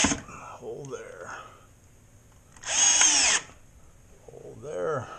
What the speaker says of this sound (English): That's why I just put a few screws in the sheetrock